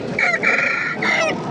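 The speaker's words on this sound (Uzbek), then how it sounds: "Ha, xo'roz." A rooster at a busy animal market crows loudly and close, one drawn-out call with a brief break before its final note.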